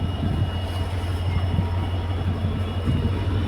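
The Vivek Superfast Express, a long-distance train with LHB coaches, departing from a station platform, heard as a continuous low rumble and hum with a steady tonal drone, close and fairly loud, with no talk.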